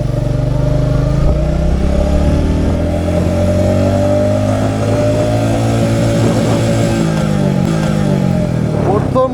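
A Royal Enfield Meteor 350 motorcycle revs hard and accelerates through first gear, its steady thumping engine loud and close throughout, rising in pitch until a brief dip near the end.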